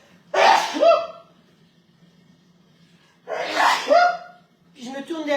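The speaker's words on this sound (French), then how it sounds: "Attendez, faut que j'éternue." Two loud, close sneezes a few seconds apart, each a sharp burst of breath, followed by a brief vocal sound.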